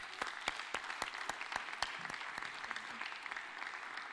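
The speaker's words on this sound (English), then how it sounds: "Let's give them a big round of applause." Audience applause closing a Dartmouth event: a steady wash of many hands clapping, fairly distant and even, with sharper individual claps standing out.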